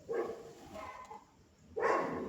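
A dog barking in a few muffled, fairly distant bursts spaced about a second apart, faint against a quiet background.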